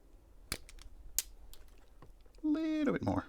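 Hand cutters snipping a stressed plastic part on a Karcher WD 2 Plus vacuum, a few sharp close clicks and snaps, followed by a voice.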